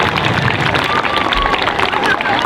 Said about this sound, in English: Give Mrs. Teo a big round of applause.